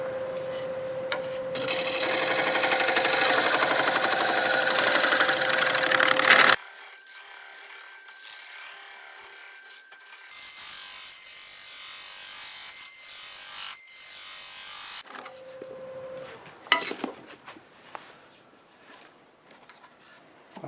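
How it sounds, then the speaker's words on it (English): A wood lathe spins a juniper bowl at 700 RPM as a scraper cuts it, giving a steady, loud, rough scraping with a sustained tone. The sound breaks off partway through and then returns more quietly with scattered scrapes. "Alright, it's time to scrape. 700 RPMs."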